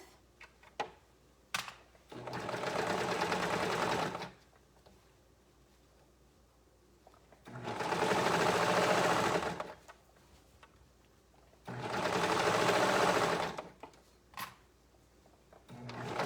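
A sewing machine stitching a seam over serger gathering stitches: three steady whirring runs of a few seconds each, separated by quiet gaps with small clicks and handling noises, close by and without talk.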